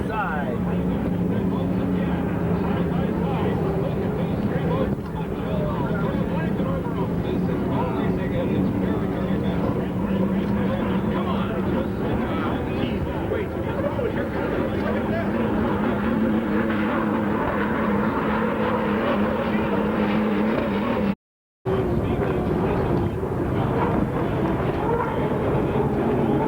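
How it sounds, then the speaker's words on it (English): Hydroplane racing boats roar past in a 2005 race, a steady loud engine drone that swells and fades with distance, with a brief dropout near the end. "as the hydroplanes go by"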